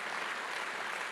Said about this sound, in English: I'd really love another round of applause